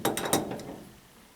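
An adjustable wrench snugs a nut onto a fitting of a hydronic HVAC water system, giving a few quick metallic clicks and scrapes up close that fade into quiet.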